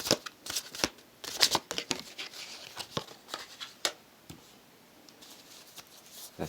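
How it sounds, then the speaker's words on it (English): Tarot cards shuffled and drawn from a deck: a run of quick, crisp riffles and flicks, close and fairly quiet, with short bursts and soft slides between them and no talking. "Let's pull one more card. One more card, please, for Gemini."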